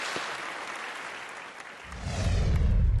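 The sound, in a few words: applause for the panelists at a forum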